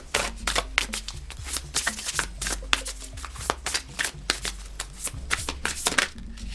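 Oracle cards shuffled by hand, a dense, continuous riffle of papery flicks and slaps, close and fairly loud with a quick uneven rhythm and no voice.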